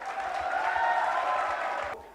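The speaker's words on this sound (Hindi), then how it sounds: "तो एक बार अपने लिए जोरदार तालियां फिर से" Loud sustained clapping from an audience of CRPF jawans at an Independence Day celebration event, a dense steady wash of applause that fades slightly near the end.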